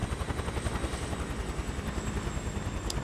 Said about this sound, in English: We've got a Huey.